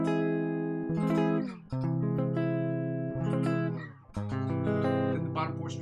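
Strummed guitar rhythm chords with the pinky added in the same fretboard position, a loud, ringing, sustained strum that breaks off and restarts twice, with no talking.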